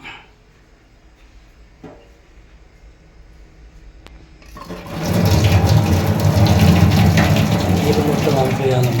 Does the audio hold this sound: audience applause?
no